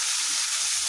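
Red amaranth greens frying in hot oil, a loud, even hiss of sizzling heard up close without a break.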